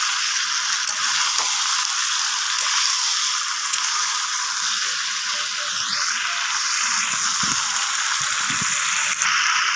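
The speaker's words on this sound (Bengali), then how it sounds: "এবার আমি জলটা দিয়ে দিচ্ছি।" Boiling water poured into a simmering pumpkin and shrimp curry, giving a steady hiss and sizzle that fills the pan throughout with faint bubbling and small stirring knocks underneath.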